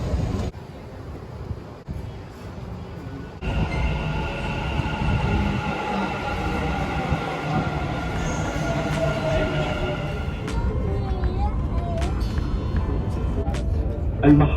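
A train rumbles steadily from inside a carriage near Dubai, with wheels grinding, faint squeals, and a recorded announcement voice partway through.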